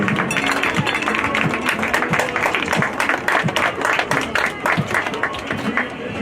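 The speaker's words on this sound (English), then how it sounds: "Give one more round of applause for the step family." Crowd applause at a college football game for the Union College step family, steady scattered clapping with rhythmic taps and stomps mixed in, with voices in the crowd.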